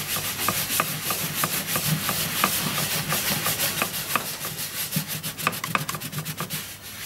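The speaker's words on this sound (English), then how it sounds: "after a little bit of rubbing, it's come off" A cloth rubs hot melt glue residue off a surface sprayed with EV60 hot melt cleaner, making steady, rhythmic scrubbing strokes that are close and fairly loud throughout, with no talking.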